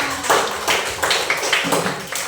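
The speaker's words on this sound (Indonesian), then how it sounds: "Tepuk tangan semua." A class of students claps hands together in a classroom lesson, a short burst of scattered, uneven claps lasting a couple of seconds, fairly close and loud.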